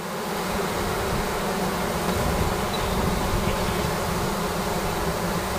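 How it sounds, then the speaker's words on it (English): Honey bees buzzing in a high-pitched, steady drone after their queen has been removed from an active hive, loud and close, continuous with no talk. "very often you will hear the bees producing this high-pitched buzz."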